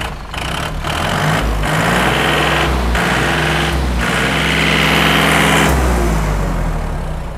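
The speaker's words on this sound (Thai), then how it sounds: "เร่งเครื่องหน่อย" Car engine running just after starting, a loud close steady drone with a few brief dips and surges as the throttle is worked, no talk over it.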